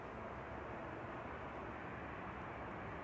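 Steady, broad roar of a Qatar Airways airliner's jet engines taxiing to line up on the runway at Manchester Airport, a constant wash of noise heard from a distance with no breaks.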